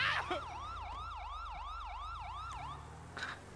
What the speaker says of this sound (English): Oh, we've even got sirens.